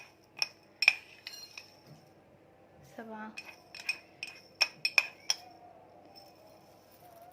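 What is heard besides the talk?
spoon scooping rice, clinking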